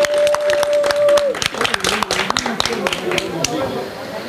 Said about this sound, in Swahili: Tumpigie makofi Berkane.